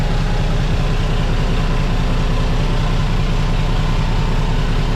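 A vehicle engine runs steadily just after start-up, a loud, close, continuous low rumble that holds even throughout with no talk over it.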